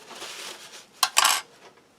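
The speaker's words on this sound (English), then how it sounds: "rinse the spoon." Spoon being rinsed with cutlery clinking, a soft background wash followed by a couple of bright metallic clinks and a brief clatter near the middle before fading out.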